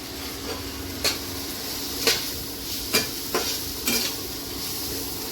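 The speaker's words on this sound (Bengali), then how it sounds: "মশলাটা হালকা কষে নিচ্ছি একটু" Spices with ginger powder fry in a pan under a steady low sizzle, while a spatula scrapes and knocks against the metal about five times in an uneven rhythm.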